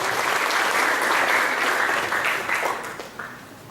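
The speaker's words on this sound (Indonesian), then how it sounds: "Tepuk tangan buat kita semua" A seminar audience applauds in a full, even burst of clapping that gradually thins and fades toward the end.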